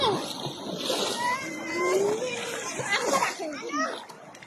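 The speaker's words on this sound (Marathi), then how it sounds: "ही पोरा कुदतात बघा कशी नदीत म्हशी सारखी" Children shouting and jumping into a river outdoors, with splashing and sloshing under lively overlapping young voices.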